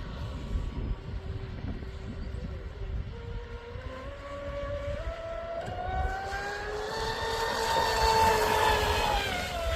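A Traxxas Spartan RC boat on 8S power with an Oxidean 1650Kv six-pole motor and 200 A ESC runs on windy water, its high-pitched motor whine rising and swelling as it nears, over a low rumble of wind.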